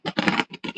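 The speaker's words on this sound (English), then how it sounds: "that's the sound of the perforation" Paper being perforated along its edges to prepare it for shipping, heard as four quick rasping, scratchy bursts separated by tiny gaps, close and fairly loud.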